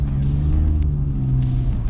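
A BMW E46 320i engine drones close by during a donut on a winter street at night, with a steady low hum and slight revving, the pitch holding fairly even throughout.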